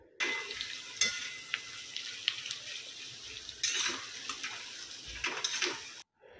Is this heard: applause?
no